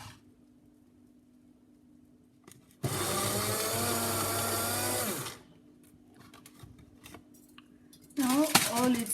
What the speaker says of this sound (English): Then I'll just put this on the grinder